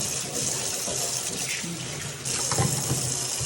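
Dishes are rinsed under a running kitchen tap, a steady close gush of water splashing in a sink with small clinks and shifts as the pieces are moved.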